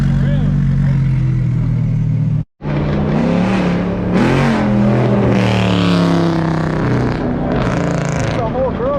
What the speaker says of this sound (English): Another R8 pulling up.